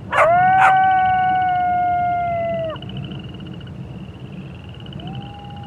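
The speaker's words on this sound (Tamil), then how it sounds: "என்னைக்கும் இல்லாம இந்த நாய்ங்க ரொம்ப கத்திட்டே இருக்கே" Dogs outside at night give a long, loud, wavering howl that drops off after a couple of sharp barks, then a fainter howl rises in the distance.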